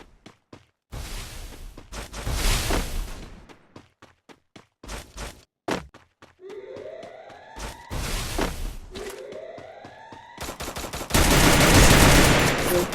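Free Fire gameplay gunfire crackles in repeated bursts of rapid shots and single loud cracks, with short pauses between volleys and a sustained heavy burst near the end.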